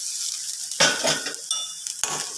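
Ginger paste, green chillies and curry leaves sautéing in a hot pan for egg masala curry, with steady close sizzling and bursts of stirring and utensil clinks against the pan, no voices.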